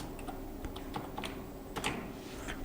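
Quiet, irregular clicks of keys on a computer keyboard as a password is typed at a Windows lock screen, a short burst of separate taps with no talking.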